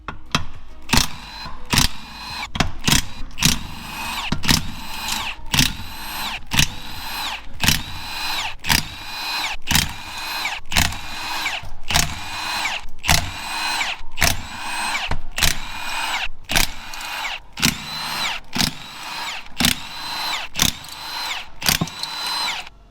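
A power tool spins off the 10 mm bolts around a Ford Focus differential casing being fitted with a Quaife limited-slip unit, a steady run of short whirring bursts in close succession, loud and near, with no talk.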